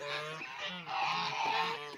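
Young geese honk repeatedly in a close, noisy flock, their calls overlapping in a continuous chorus.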